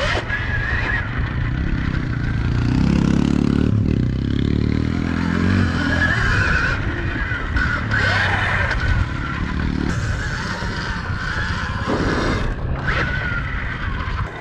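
A small drift quad fitted with rubber-band tires runs on wet grass, its motor whirring and revving with clattering and scraping throughout, loud and near, with some talk in the background.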